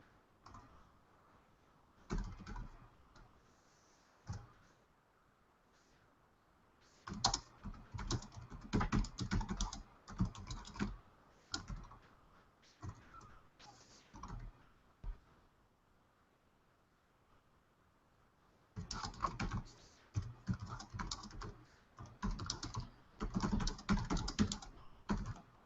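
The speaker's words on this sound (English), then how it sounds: "I should be reading what I'm typing" Typing on a computer keyboard comes in bursts of rapid clicking, with quiet pauses between them. The keys sound close and moderately loud.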